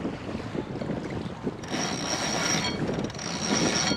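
A Genoa sail unfurls aboard a sailboat out on the water, giving a rushing, flapping wind roar with mechanical rattling and ratcheting that swells in bursts partway through.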